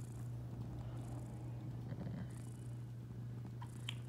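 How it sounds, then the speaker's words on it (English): A close cat purrs steadily with gentle rhythmic breaths, alone and uninterrupted. "Wait, really right now, he's just like purring."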